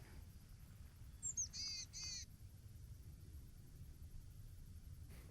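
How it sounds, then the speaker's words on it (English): Boreal chickadees in woods along a logging road, heard as a brief burst of a few hoarse, buzzy calls in the middle, fairly faint and distant over a quiet outdoor background. "on this logging road in the woods, I've got 11 boreal chickadees so far"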